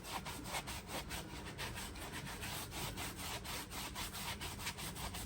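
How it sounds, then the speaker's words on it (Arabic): A loofah soaked in hot water with a little vinegar scrubs skin during a Moroccan bath, giving steady, rhythmic rasping strokes, close but soft, with no talking. "وهفضل افرك"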